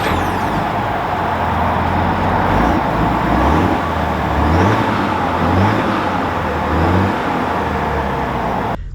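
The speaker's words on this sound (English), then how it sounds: "let's take this 1500 Denali out and see how she drives." A 2021 GMC Sierra 1500 Denali pickup with a Duramax diesel engine drives along, a steady low engine and road rumble heard from the cabin, rising and falling slightly with speed, with no speech.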